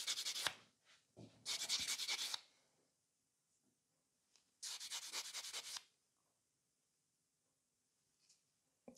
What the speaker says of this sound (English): So I'm just filing this corner here, making sure it's nicely blended with the natural nail, and then smoothing the surface of the entire nail.